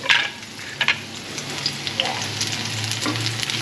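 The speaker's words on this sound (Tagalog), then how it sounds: "Gisa na po tayo, pagsabay na natin." Bitter melon (ampalaya) being sautéed in a pan, a steady hiss of frying with scattered sharp pops and a few stirring scrapes, close and moderately loud, with brief faint voices.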